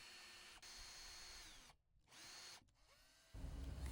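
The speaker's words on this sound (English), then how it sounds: "I used the provided drill bit to drill the holes for the hinge screws." Power drill with a depth-stopped bit boring screw holes for door hinges during a single door installation, short bursts of whirring with a brief pause between, close and moderately loud.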